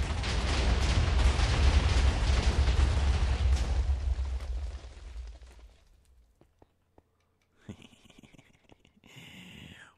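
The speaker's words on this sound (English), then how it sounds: "I think we got just enough TNT for this" TNT blasts in a video game set off a dense, loud roaring burst of explosions lasting several seconds, then the rumble fades to near silence before faint voices and small sounds return.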